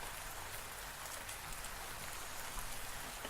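Steady rain pours down in a dense, even hiss, loud and close throughout with no voices over it.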